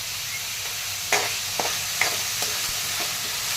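Pumpkin pieces added to hot oil tempered with curry leaves, giving a quiet sizzle with a few spoon scrapes and taps as they are stirred.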